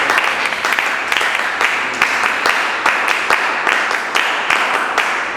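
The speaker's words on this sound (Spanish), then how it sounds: "darle un fuerte aplauso también, pero un fuerte aplauso" A crowd at a political forum on complementary elections applauds loudly and continuously, many hands clapping together in a dense, sustained wash of sound.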